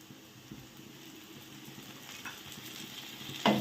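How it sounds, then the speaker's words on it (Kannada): Onions frying in a pan for a maize upma give a faint, steady sizzle, with soft stirring scrapes throughout and a sharp clatter at the very end. "1 ಕಪ್ ಉಳ್ಳಾಗಡ್ಡಿ ರೀ. ಮಿಕ್ಸ್ ಮಾಡಿ ಚೆಂದಾಗಿ."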